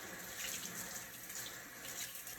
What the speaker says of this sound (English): we turn on our water and we get our hands wet.